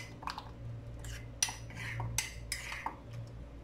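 Metal spoons clink against dishes as three spoons go into three bowls of mango custard: several light, quick taps and scrapes over a low steady hum, close by.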